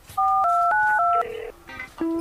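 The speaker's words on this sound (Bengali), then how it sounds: "তারপরে একটা ফোন দিই ফোন দিয়ে আসতে বলি" A telephone keypad dials a number with a quick run of distinct touch-tone beeps, each lasting a fraction of a second, loud and close, followed by a few softer tones.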